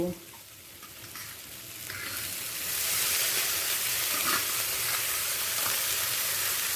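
Boiled banana flower goes into a frying pan, a soft sizzle swelling into a loud, steady hiss of frying that holds to the end, with no one speaking.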